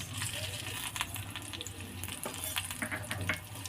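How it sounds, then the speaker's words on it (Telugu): Steady crackling sizzle of dried red chillies frying in hot oil, continuous and close, with a few sharper pops and clinks over the hiss. "ఇప్పుడు ఆయిల్ హీట్ అయిన తర్వాత ఎండుమిర్చి వేసుకోవాలి ఫ్రెండ్స్."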